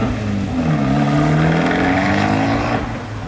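Abarth 595 hatchback engine pulling up close, a loud, steady droning rumble with engine pitch gently rising and falling before easing off at the end.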